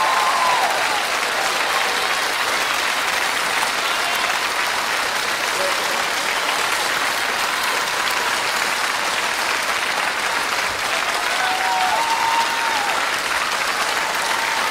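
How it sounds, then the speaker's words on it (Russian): Loud, continuous ovation from a television studio audience after a quickstep ballroom dance, a dense wash of clapping and cheering that never lets up, with a voice faintly audible beneath it. "Овации и цветы очаровательному квикстепу."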